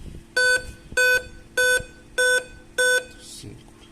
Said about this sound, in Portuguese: 5 bips significa erro da bateria do sistema, ou seja, algum problema na CMOS